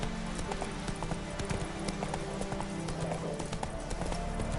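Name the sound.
horse hooves clip-clopping in a video game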